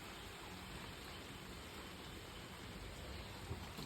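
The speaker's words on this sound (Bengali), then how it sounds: "বাইরে একভাবে বৃষ্টি হচ্ছে" Steady rain falls outside, a faint, even hiss that holds without a break.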